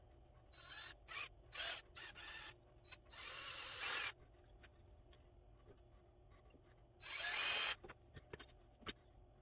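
Power drill boring a hole into a fishing lure body for a red ear sunfish lure build, heard in several short whirring bursts and one longer run, with quiet pauses between, close and fairly loud.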